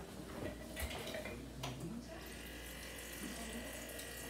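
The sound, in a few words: tap running to fill a glass of water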